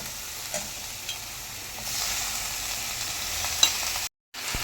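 Onion and tomato sauté in hot oil for a mutton uppu kari, a continuous close sizzle broken by light stirring clicks, with a short silent gap near the end.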